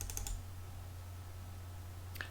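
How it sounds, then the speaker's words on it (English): A computer mouse double-clicks on a batch file, giving a quick pair of sharp clicks at the start and another faint click near the end over a low steady hum. "let's see if it'll be a little easier to open the emulator now by just double clicking on this batch file"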